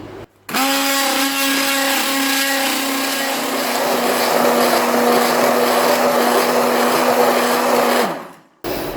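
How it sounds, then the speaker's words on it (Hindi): An electric grinder whirs loudly and steadily as it blends a mawa malai kulfi mixture, a sustained motor drone with a grinding buzz that starts abruptly, holds for about eight seconds, then winds down. "अब इसको मैं पहले ग्राइंड कर लूँगी ताकि इसमें अगर कोई लम्स भी रह जाए तो वो भी ख़त्म हो जाए।"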